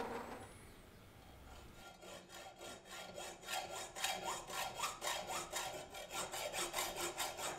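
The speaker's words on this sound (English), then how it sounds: "eventually I resorted to lobbing it off with a hacksaw" A hand hacksaw cuts off a piece of a handmade flint knapping tool, starting quietly, then settling into quick, regular back-and-forth rasping strokes that stay close and steady.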